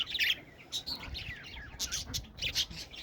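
Parrots in an aviary give repeated bursts of high chirps and squawks, heard fairly faint and close together over a quiet background.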